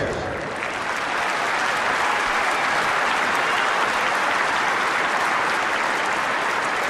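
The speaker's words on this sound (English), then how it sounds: "How about another great round of applause for our players?" A large tennis crowd at a professional tournament court applauds in a continuous, loud, dense roar of clapping that holds steady throughout.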